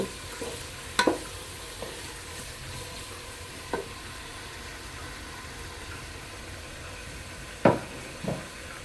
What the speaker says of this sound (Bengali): গরম মশলা তেজপাতা একসাথ করে আমি ভেজে নেব এগুলো ব্রাউন কালার হওয়ার পর্যন্ত আমি অপেক্ষা করব